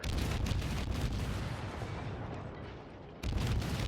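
Naval gunfire in the World of Warships game during a close Fletcher destroyer battle, a dense, continuous barrage of booming shots that fades slightly and then surges again loudly near the end.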